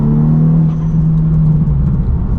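Cabin drone of a previously abandoned VW Scirocco R on the move, a loud steady engine hum with low rumble that holds one pitch and then drops slightly as the car keeps rolling.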